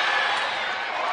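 Dense, steady roar of a basketball arena crowd at the Moody Center during a 2023 NCAA Tournament second-round game between Texas and Louisville, loud and continuous with no break.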